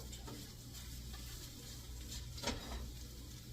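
An egg spread thin in a hot skillet sizzles steadily, with a brief louder scrape and clatter near the end as it is turned over. No voices.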